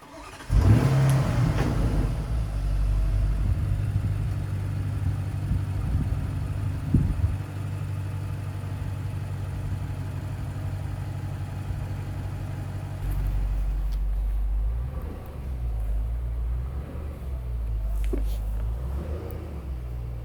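A Porsche Cayenne Turbo GT engine starts with a close roar, then holds a steady low drone as the SUV climbs a flex test ramp, with a later surge in power and faint talk throughout.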